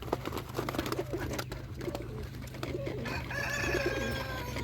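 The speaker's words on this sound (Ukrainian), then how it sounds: "Така білоглова голубочка і цей самець." Pigeons coo softly and repeatedly at an animal show in Kolomyia, Ukraine, amid a busy background of bird calls and low rumble, with brighter chirping joining toward the end.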